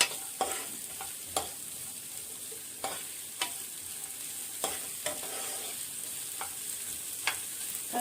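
Chopped vegetables and capsicum stirred and sizzling in a hot pan for a semolina breakfast, with a steady fry hiss punctuated by repeated sharp spatula scrapes and knocks at irregular intervals, close and moderately loud.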